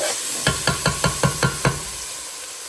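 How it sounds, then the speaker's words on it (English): Chopped vegetables sautéing in butter in a pan give a constant close hiss, with a quick run of seven evenly spaced knocks from a utensil against the pan in the middle. "Saute these up for just a minute."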